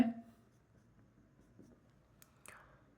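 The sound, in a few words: writing a maths question by hand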